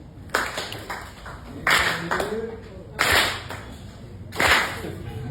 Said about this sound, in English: Let me get a little clap.